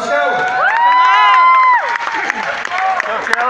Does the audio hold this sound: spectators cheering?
yes